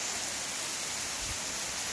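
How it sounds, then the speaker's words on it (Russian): Steady hiss of rain or hail falling in December at Porto Montenegro marina, a broad even wash of noise with no voices, faint and continuous. "идет то ли дождь, то ли град."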